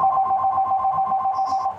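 A telephone rings from behind a board with a steady warbling electronic trill that repeats in a fast pulsing rhythm, moderately loud and slightly muffled.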